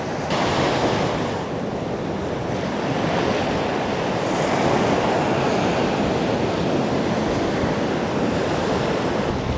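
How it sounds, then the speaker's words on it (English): Ocean surf rolling in steadily at a Benidorm beach while strong wind buffets the microphone, a constant loud roar with swells of breaking waves and no voices. "The waves have gotten a little bit less high the last few days, and the wind thankfully has dropped a bit"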